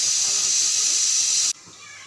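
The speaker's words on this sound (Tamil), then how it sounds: "இது பொரிச்சு எடுக்கிறதுக்காக கொஞ்சம் எண்ணெய் சேர்த்துருக்கேன்." Oil for frying banana flower vada sizzles in a pan with a loud, steady hiss that cuts off abruptly to a much quieter simmer.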